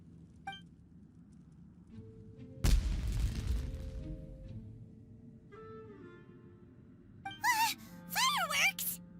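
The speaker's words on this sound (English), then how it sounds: "The fireworks were enough to distract them." Fireworks in the video game Genshin Impact go off as one loud booming burst that crackles and rumbles for a couple of seconds, later joined by whistling, squealing rockets, amid quiet game sounds.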